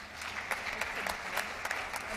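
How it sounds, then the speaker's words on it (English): An audience at a ministerial round-table forum on Girls in ICT Day applauds the panelists, a steady wash of many hands clapping at moderate distance, with a few louder claps standing out and no talk over it. "please give the two a round of applause"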